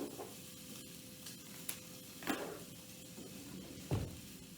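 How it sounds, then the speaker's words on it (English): Enchilada sauce ingredients sautéing in a pan, a faint steady sizzle with a few soft stirring scrapes and light clinks scattered through, no talking. "Now, while that sautés"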